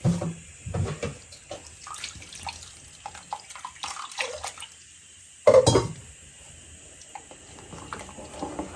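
Water splashes and trickles in short irregular bursts into a cooking pot, with a louder gush near the middle, followed by quieter dripping and faint handling noises.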